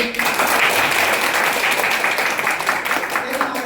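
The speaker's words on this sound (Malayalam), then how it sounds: "അദ്ദേഹത്തെ നമുക്ക് അപ്രീഷിയേറ്റ് ചെയ്യാം. ഒന്ന് കൈയടിച്ചേ." An audience at a leadership lecture class bursts into sustained, dense applause that starts abruptly and stays loud, thinning slightly toward the end.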